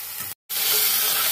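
Thick masala with softened tomato and eggplant frying for a Bengali pabda fish curry, a loud close hiss of sizzling oil that cuts out briefly, then resumes stronger.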